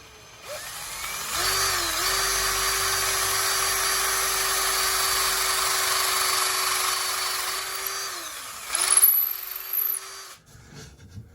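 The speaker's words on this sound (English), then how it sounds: "Drill us a hole in this one." A power drill bores a hole through a painted fishing lure, a steady high-pitched whine running for about eight seconds before it spins down, followed by a brief rattle and handling noise.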